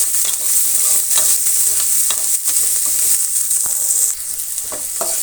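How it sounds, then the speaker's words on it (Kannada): Finely chopped onions and curry leaves frying in oil for a broad bean palya sambar, a loud, close, continuous sizzle with scattered crackles and stirring scrapes, no voices. "ಮೊದಲೇ ಚೆನ್ನಾಗಿ ಫ್ರೈ ಆಗಲಿ ಈರುಳ್ಳಿ"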